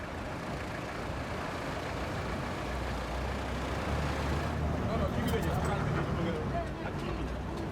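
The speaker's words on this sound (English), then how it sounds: "He's taking a car rapide." A car rapide minibus riding through Dakar gives a continuous loud engine and road rumble with traffic noise, under a voice talking.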